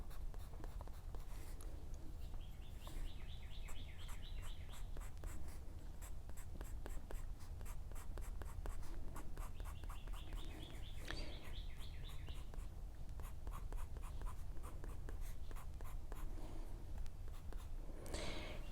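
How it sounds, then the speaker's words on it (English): A pencil scratching and shading across paper, steady continuous scraping with rhythmic back-and-forth strokes and occasional brief higher squeaks, close and fairly quiet with no speech. "darken with the side of the pencil, the spaces between the erased marks"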